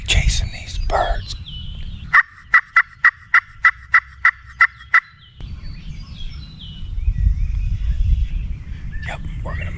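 Wild turkeys gobble in the field, a rapid run of about ten sharp, evenly spaced calls standing out clearly, framed by earlier and later calls and rustling outdoor noise with faint whispered talk.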